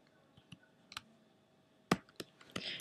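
Sparse typing on a computer keyboard while coding an iPhone tic tac toe game: a handful of separate clicks, then a quicker cluster of keystrokes at the end, close and fairly quiet with no talking.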